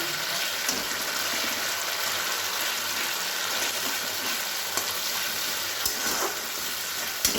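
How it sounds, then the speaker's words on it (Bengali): Cashew and tomato paste frying in a pan as it gets stirred, a dense close sizzle with scattered scrapes and light knocks of the spoon. "এবার খুব ভালো করে নাড়িয়ে নিলাম"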